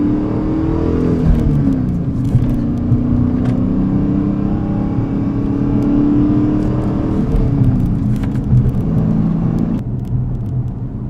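A car engine held at high RPM, a steady loud roar with a whirring drone that stays constant for about ten seconds and eases slightly near the end, with no talk over it.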